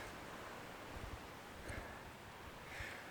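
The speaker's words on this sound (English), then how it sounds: "It is so windy today." Steady, faint wind roars and hisses across the open sand of Mesquite Dunes in Death Valley, with soft gusts swelling now and then and no voices.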